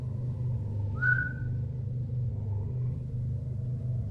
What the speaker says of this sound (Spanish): un silbido me llamó la atención